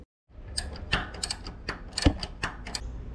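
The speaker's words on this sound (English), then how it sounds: "So we'll just tighten that up." A ratchet tightening a nut on a Harley-Davidson Dyna Fat Bob motorcycle during a service, a series of close metallic clicks in uneven bursts, with no talking.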